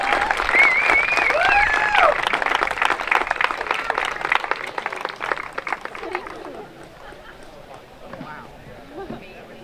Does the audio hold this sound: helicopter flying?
no